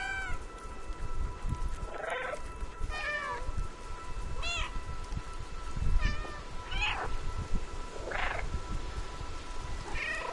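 A cat meows repeatedly, about six distinct rising and falling calls spread over ten seconds against a steady background hum and rustle, moderately close and clear with no talk.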